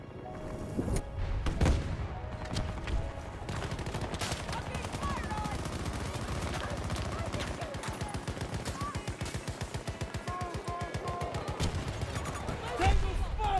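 Gunfire in a shooter video game: rapid strings of automatic shots rattle steadily through the middle, fairly quiet and dense, with scattered single cracks and in-game sounds around them.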